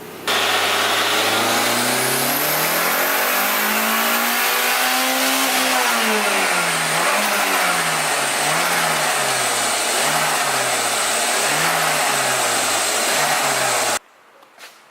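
A car engine makes its first dyno pull, producing about 161 horsepower. It revs steadily upward with a rising drone, then settles into a wavering, surging pitch for several seconds before cutting off abruptly, loud and close with a constant hiss.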